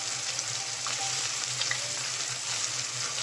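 Ginger garlic paste sizzles in a frying pan while a Bengali chicken curry is cooked, a steady close crackle with faint stirring scrapes.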